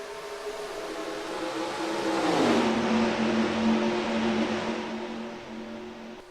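Race cars at full speed in the NASCAR Racing 2003 video game on the Georgia track: a dense, steady engine roar with a pitch sweep as cars pass, rising and holding at moderate loudness, no voices.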